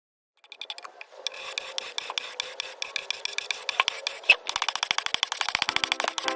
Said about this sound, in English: I started out scraping, but I wound up sanding this chair.